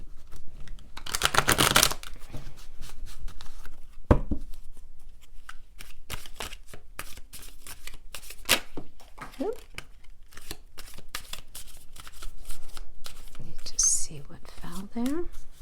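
Crystal Visions tarot cards are shuffled close up in quick riffles and soft slaps, with rustling and tapping throughout. A voice speaks quietly over the shuffling.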